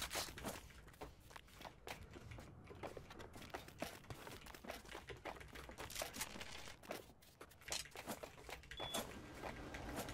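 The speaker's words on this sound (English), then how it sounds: "You can probably hear my keyboard just smashing." Rapid, dense clicking of a computer keyboard being hammered during a gaming raid, close and fairly quiet, with irregular bursts of keystrokes throughout.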